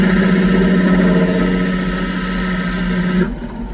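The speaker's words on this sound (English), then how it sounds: "You'll hear the barrel trimmer scraping the metal, and it's a different sound than just wood." Lathe spinning a wooden pen blank with a brass tube as a barrel trimmer scrapes the metal end, a steady close mechanical hum and whir with a gritty scraping edge that drops away abruptly near the end.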